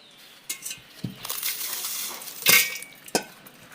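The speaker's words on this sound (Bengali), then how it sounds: "বিস্কুটগুলো এভাবে ভেঙে দিতে হবে।" Tip biscuits snapped by hand into a blender cup: four or five crisp, close cracks and crunches at irregular intervals, with light clatter against the cup and no voices.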